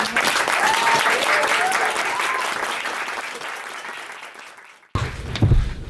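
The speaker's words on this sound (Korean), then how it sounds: "박수로 맞이해 주시면" Applause from an audience at a corporate lunch talk greets an employee stepping up to present on fitness; sustained clapping fills the room for about five seconds, then cuts off abruptly and other sounds follow.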